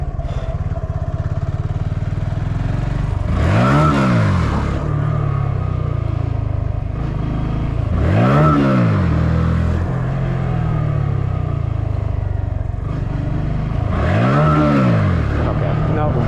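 A motorcycle accelerates hard in second gear in a lot, with three rising engine sweeps that pass loud and close over a constant engine drone.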